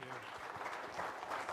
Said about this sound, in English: let's give Michael a round of applause